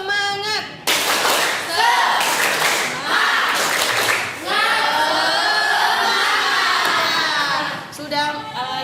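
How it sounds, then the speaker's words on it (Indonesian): A classroom of children performs a rhythmic spirit clap in unison, bursts of clapping mixed with shouted chanting, loud and close, with a teacher's voice at the start and end. "Coba tepuk semangat."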